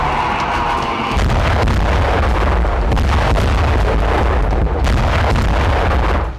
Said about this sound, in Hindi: इजरायली ब्रिगेड का फुल फ्लेजेड बारूदी एक्शन गाजा में भीषण तरीके से जारी है